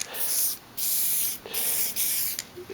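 A spray paint can sprays a Blood Angels model tank in about four short, close hissing bursts separated by brief pauses, with a fainter trailing puff at the end.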